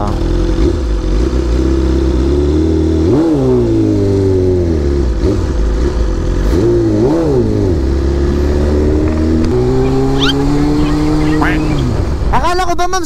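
A BMW big bike motorcycle carrying a rider and passenger, its engine droning loud and close with several rev rises and shifts, under steady wind noise while people talk.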